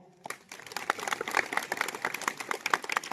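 Applause from a crowd at a political gathering in India, a dense, steady patter of many hands clapping that rises quickly and carries on at moderate loudness without speech.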